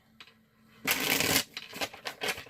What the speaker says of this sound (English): I'm not really counting how many shuffles I'm doing.